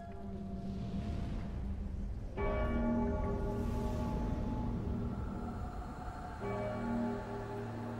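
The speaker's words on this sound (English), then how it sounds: "Ring the bell." Bell in the Dark Souls 3 video game: a large church-like bell tolls three times with long ringing overtones, each strike decaying into the next, loud and resonant with no talk.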